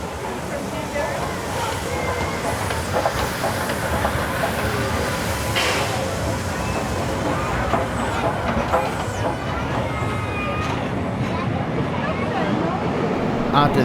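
An electric commuter train rolls through a New South Wales station with a steady, loud rumble and rail noise throughout, while a locomotive waits in a siding nearby; voices are faintly heard over it.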